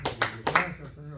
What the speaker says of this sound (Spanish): Dele un aplauso al Señor en esta hora